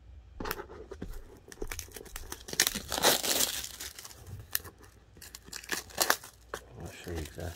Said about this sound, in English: peel this wrapper off here.